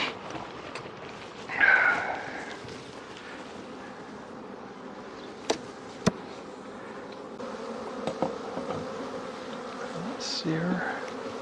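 Honeybees buzz steadily around an opened hive while the brood nest is inspected, a continuous close drone with a few sharp knocks and clicks from hive tools and frames.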